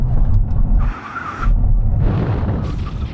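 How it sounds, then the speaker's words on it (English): A car's tires screech in a sharp skid during an emergency stop from 70 mph, broken by a brief pause, under a loud engine and road rumble. "Full emergency stop from 70 miles an hour when we reach the white line."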